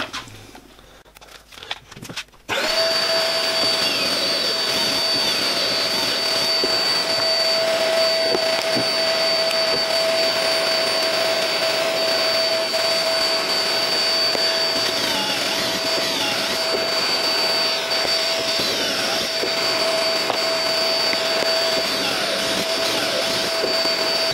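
A power drill bores pocket holes into the wooden stretchers of a simple stool. After a short quiet start it gives a loud, steady, high-pitched whine that holds for over twenty seconds without talk.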